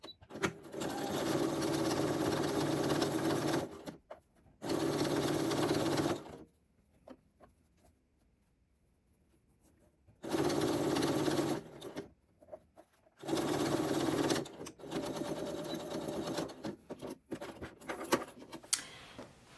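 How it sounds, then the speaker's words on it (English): A sewing machine runs in several steady bursts of rapid stitching as it sews along a fabric book cover edge, with quiet pauses between runs and faint handling noises. "I'm going to take this over to the sewing machine and I'm going to stitch down right on the edge there at 1/4 inch all the way down"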